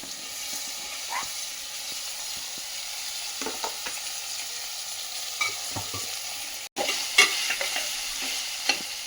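Potato pieces being stirred into a pan for an aloo beans curry, with a steady close sizzle of frying under scraping stirs and occasional clatter of a spoon, no talking.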